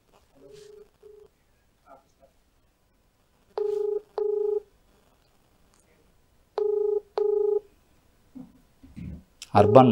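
An unanswered outgoing phone call to a mandal tahsildar's office rings back in two double-pulse tones spaced a few seconds apart over near silence, before a voice begins speaking at the end.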